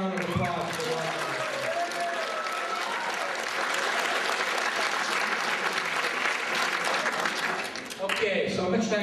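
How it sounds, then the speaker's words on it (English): An audience at a 2004 event in Iroquois Falls applauds loudly and steadily, a dense roar of clapping that dips briefly near the end before surging again. "Can you give them a round of applause for that?"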